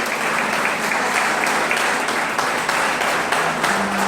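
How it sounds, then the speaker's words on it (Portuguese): A church congregation applauds, dense steady clapping from many hands throughout, fairly loud and close. "Vamos aplaudir mais uma vez o Senhor."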